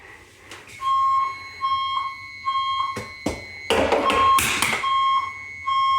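A building fire alarm sounds after a heat detector is set off with a magnet, steady repeating electronic tones broken by short bursts of louder clanging and chime-like alarm pulses, close and loud.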